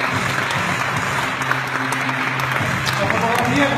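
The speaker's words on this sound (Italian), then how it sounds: "Un applauso a Michael" Steady applause from a crowd at an awards ceremony, a dense wash of clapping hands heard throughout with no pauses.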